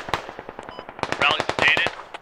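RPK machine guns fire in a Squad video game firefight, with rapid, loud automatic bursts of closely spaced shots, some near and some more distant, under a voice talking.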